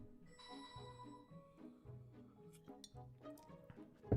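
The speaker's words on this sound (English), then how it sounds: "Oops, my phone is beeping." A mobile phone gives a repeating electronic ringtone of stepped tones in a steady rhythm, quiet and indoors, ending with a soft bump.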